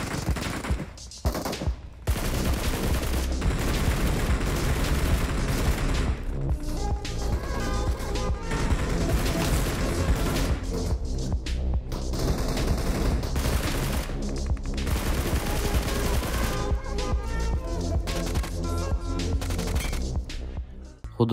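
Video game gunfire rattles in dense, continuous volleys layered with loud game music and effects, sustained at high volume almost throughout.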